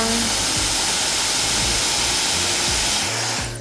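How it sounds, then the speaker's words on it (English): A blow dryer blows air steadily and loudly onto hair while it is smoothed with a Denman D4 brush, a close, continuous rushing roar that cuts off near the end. "turn the blow dryer on, place the air up at the top, and smooth"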